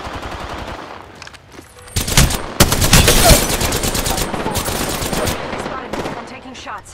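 Rapid automatic gunfire in the video game Apex Legends, quiet at first then bursting into loud sustained volleys of shots from about two seconds on, continuing with repeated fire to the end.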